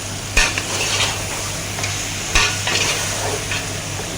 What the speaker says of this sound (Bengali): ভালো মিক্স করবো।